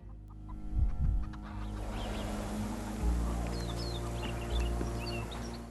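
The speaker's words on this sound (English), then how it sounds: "You can hear the chickens in the background." Chickens cluck in the background of the game Sherlock Holmes Chapter One, soft scattered calls over a low steady hum and throbbing ambience, with no voices.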